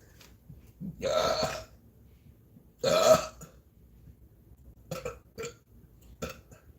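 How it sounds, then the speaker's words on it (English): A person burps loudly twice in long, rumbling belches, then gives several shorter, quieter burps close to the microphone with no speech. "As soon as they come out, I start burping."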